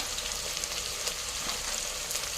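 Garlic and onion frying together in a pan, a steady, moderate hiss of sizzling oil with faint crackles and no voices.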